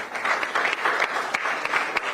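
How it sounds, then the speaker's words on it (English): An audience at a formal event applauds, with steady dense clapping and a few sharper claps standing out, moderately loud and without talk. "A big round of applause."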